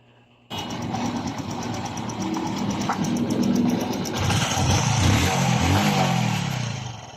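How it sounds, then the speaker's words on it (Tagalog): A Honda XRM 125 carbureted motorcycle engine, freshly top-overhauled after white smoke trouble, starts up and runs steadily in a shop, loud and close, with a rough mechanical clatter and rising revs toward the end. "Balik brand new na tunog ng kanyang makina."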